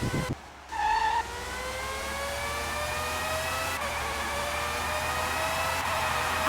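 A Formula 1 race car engine in the game Formula 1 '97, French Grand Prix qualifying, screaming loud and steady as it climbs through upshifts with brief breaks in pitch, with no talk over it.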